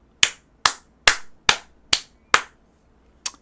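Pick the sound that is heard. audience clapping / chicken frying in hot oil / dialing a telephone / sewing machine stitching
audience clapping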